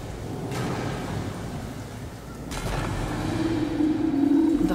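Rain pours steadily in the video game Alien Isolation, with two heavy thunder rumbles rolling through the downpour, the second growing louder toward the end.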